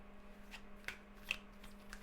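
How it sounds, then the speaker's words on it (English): A new tarot deck is shuffled by hand as a soft, quiet run of riffles and light taps, with a few sharper card slaps, faint and close in a quiet room. "New decks are always hard to shuffle."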